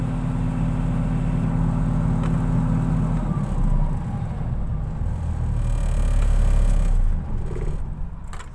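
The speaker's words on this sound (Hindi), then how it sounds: "मैं बंद कर रहा हूँ गाड़ी को" A Mahindra Blazo BS4 truck with low pickup and fault code P20E8 idles with a loud, steady diesel drone nearby, then the engine is switched off about a third of the way through, leaving a rough, noisy rumble.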